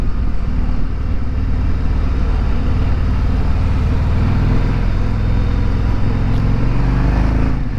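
A 2026 Harley-Davidson Street Glide Limited motorcycle engine on the move: a steady, loud low drone with wind rush running throughout, no voices.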